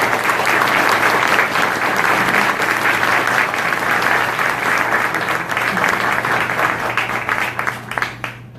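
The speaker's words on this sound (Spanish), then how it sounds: "Les pido que recibamos con un aplauso a nuestra distinguida visitante." A seated audience at a Movimiento Libertad talk applauds to welcome a visiting speaker with dense, continuous clapping that stays loud and even throughout, then tapers slightly at the very end.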